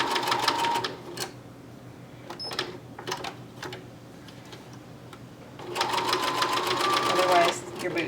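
A sewing machine stitching quarter-inch seams on doll slouch boots runs in rapid, even bursts of clattering stitches, stopping and starting at close range, with a person talking over parts of it.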